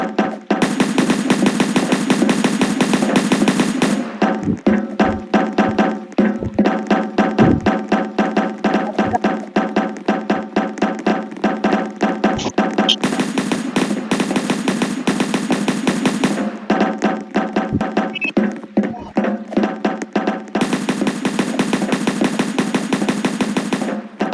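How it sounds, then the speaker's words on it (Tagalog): Rapid bursts of automatic gunfire rattle in long sustained volleys, loud and close, with brief pauses between strings of shots. "Baril na baril!"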